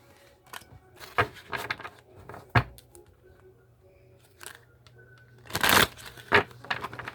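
Tarot cards are drawn from a deck during a horoscope reading: a scattering of close, crisp paper slides, flicks and rustles, with a louder shuffling burst near the end and no speech.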